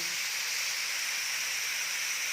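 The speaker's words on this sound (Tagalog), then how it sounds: "nalagay ko na yung ating giniling. Papupulahin po natin yan." Ground pork browning in a hot pan for stuffed milkfish, a steady close hiss of sizzling that stays even and continuous from start to end, no voices.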